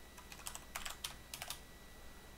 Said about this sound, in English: So we're going to type printf